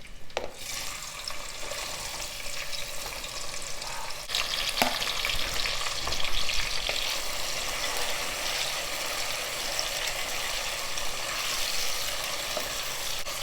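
Sliced onions frying in oil with whole spices for mutton biryani, giving a loud, dense continuous sizzle with occasional stirring scrapes, close and without speech.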